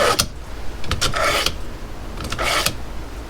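A knife is sharpened in a run of quick rasping strokes, several short scrapes in bursts, close and fairly loud, before cleaning pompano fish.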